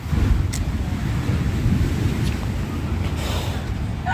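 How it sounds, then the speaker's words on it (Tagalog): Storm-driven sea waves roll in as a steady, heavy low roar of surf, with wind buffeting the microphone throughout and a few brief splashes rising above the wash. "Alon na lang talaga. Along bagyo."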